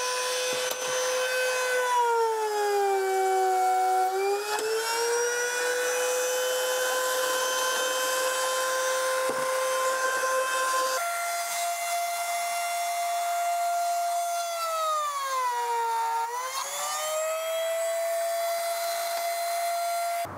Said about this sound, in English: take my castle machine, slide it onto the edge, clamp it down, do my routing, and then my pilot hole gets drilled